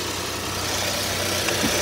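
A 2012 Nissan March XS Sport Version engine idles steadily just after startup, a smooth, even hum heard close and alone with no talking.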